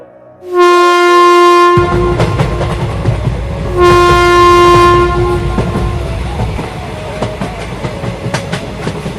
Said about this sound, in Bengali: স্টেশনে ট্রেন এসে থামলো